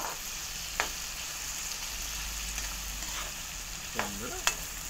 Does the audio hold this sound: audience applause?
no